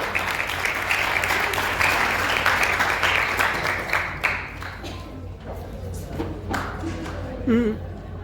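Audience clapping at a prize-giving for a village competition in Siwan, Bihar, with steady dense applause that thins out toward the end while voices talk over it.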